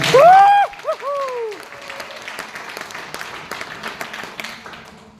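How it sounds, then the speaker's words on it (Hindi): At a seminar, a voice rings out briefly before the audience breaks into loud, sustained clapping that carries on at a steady, busy level to the end. "ताली होना चाहिए जोरदार।"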